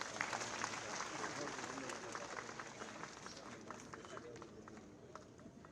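A crowd at a college student-union office inauguration in Bikaner, India, claps to welcome a state energy minister, a steady wash of many hands heard from a distance and fairly quiet throughout.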